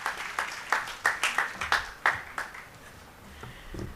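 An audience at a book launch claps, with scattered individual claps in an uneven rhythm that thin out and fade toward the end.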